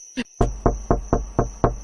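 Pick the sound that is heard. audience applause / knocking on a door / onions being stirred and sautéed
knocking on a door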